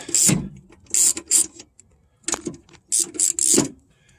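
A hand ratchet loosens 13 millimeter bolts on a Roxor fuel filter, giving short bursts of rapid clicking close by, separated by brief pauses, with metallic rattles between strokes.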